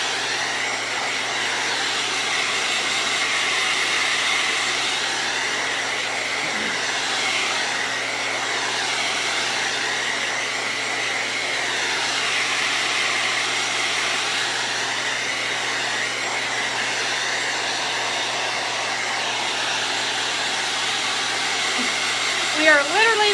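A hair dryer blows steadily to dry paint on a pumpkin, a loud continuous whir with a shifting, wavering pitch that holds nearly unbroken for the whole stretch, with a brief clatter near the end.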